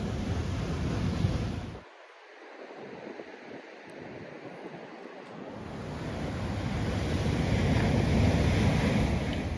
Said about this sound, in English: then we are watching the ocean waves